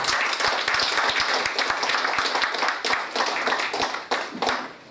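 Guests at a wholesalers' association year-end evening applaud to welcome the press, a loud round of clapping with a few sharp individual claps standing out near the microphone before it tapers.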